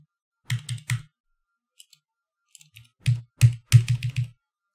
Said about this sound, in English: it's spamming. It's not good. spamming the period key.